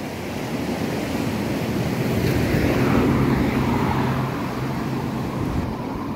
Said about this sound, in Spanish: es este río que viene de Tlapa